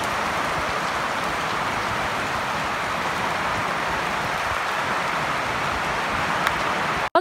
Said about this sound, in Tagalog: Minsan nga ay biglangan lalakas ang ulan at maya-maya naman ay titila.